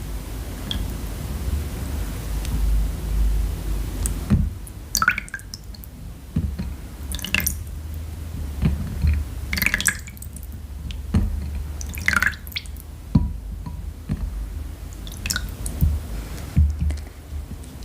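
Water is pinched between fingers during an at-home nail care session, giving soft, close drips and small splashes in an irregular pattern over a steady hiss, with no talking.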